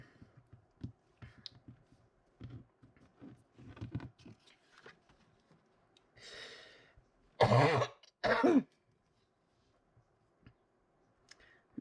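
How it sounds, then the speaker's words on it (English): A few sharp coughs close by, bunched near the end, after quiet stretches of small clicks and faint rustling. "Blooming cough keeps coming and going."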